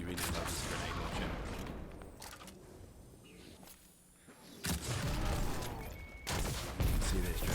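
In Destiny 2, a grenade launcher fires with chain-reaction explosions in a Lost Sector, producing loud bursts of blasts and crackling detonations, then a lull, then more booming explosions.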